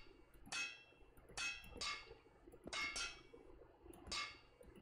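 Four sharp metallic hammer strikes in the Minefantasy2 game ring out at a slow, uneven pace, each with a bright clang that fades quickly.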